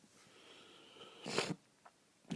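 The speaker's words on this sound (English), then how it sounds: "Excuse my sniffling and coughing and my throat" Wet, congested sniffs from someone with a head cold, a few short nasal bursts separated by quiet breathing, close and fairly soft.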